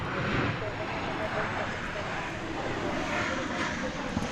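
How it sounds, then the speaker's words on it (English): A Chinook helicopter passes over DFW airport, a steady broadband rotor and engine roar filling the whole stretch at a constant, moderately distant level. "Chinook again, down the middle."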